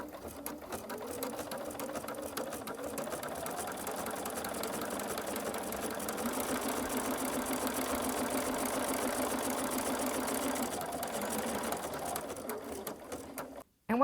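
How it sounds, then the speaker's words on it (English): A sewing machine couches cording down with a back-and-forth zigzag stitch. It gives a steady, continuous mechanical whir for about thirteen seconds, then stops abruptly. "you'll see the needle will go back and forth. Just hold it straight and let the machine do all of the work."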